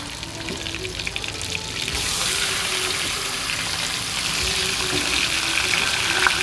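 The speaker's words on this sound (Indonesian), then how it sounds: "setelah bumbu layu, ayam dimasukkan." Chicken sizzles and crackles as it is added to softened spices in a hot pan, the frying hiss growing louder and fuller after the first couple of seconds.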